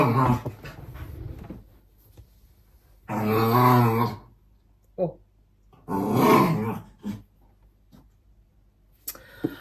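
A dog lets out strained, drawn-out growling whines in two long bursts, with shorter grunts between, close by and loud against quiet pauses.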